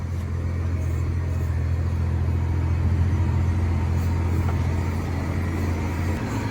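A farm tractor drives across a tilled field, its engine a steady low diesel rumble throughout with no talking.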